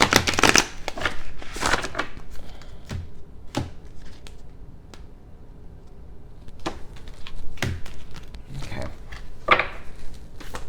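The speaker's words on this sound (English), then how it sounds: "Two more shuffles, pull from the top." A deck of Ascended Masters oracle cards is shuffled by hand in repeated crisp riffling bursts with pauses between them, close and fairly soft, while a voice talks quietly underneath.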